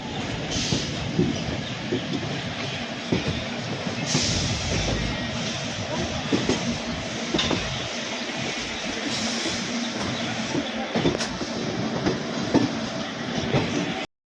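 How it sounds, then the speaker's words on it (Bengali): Ganadevata Express running out of Howrah station, heard as a continuous loud rumble and rattle of rail carriages with faint clicks and occasional squeals, and no clear talk. "সঠিক টাইমে আমাদের ট্রেন ছাড়লো হাওড়া স্টেশন থেকে গণদেবতা এক্সপ্রেস"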